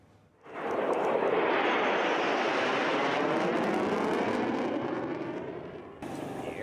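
Air Force Thunderbirds jets roaring overhead at the Bethpage Air Show on Long Island, a loud broad jet rush swelling in quickly, holding for several seconds, then fading as the aircraft pass.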